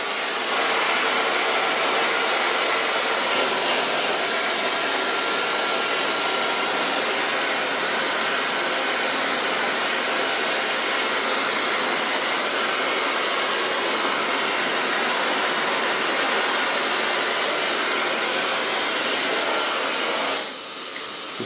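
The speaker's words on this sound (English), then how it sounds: "So far blow dry." A hair dryer blows hair dry through a medium-large round brush, a steady loud whooshing roar that runs almost unbroken for about twenty seconds and then cuts off near the end.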